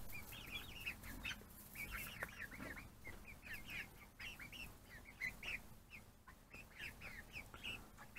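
Chickens cluck and chatter steadily close by while they peck at a newly built roost, with soft tapping and rustling beneath the repeated calls.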